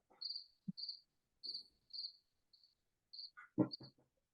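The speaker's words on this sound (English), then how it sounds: "I get cricket sounds." A cricket chirping sound plays as a reminder tone, repeating short high-pitched chirps in a steady rhythm. Soft knocks and faint shuffling are heard under it near the end.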